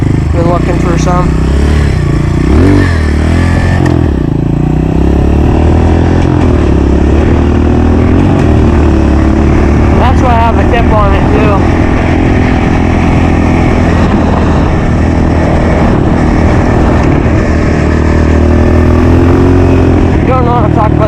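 Honda pit bike engine buzzes loud and close on a dirt track, rising and falling through repeated revs and gear changes, with a voice speaking over it in places.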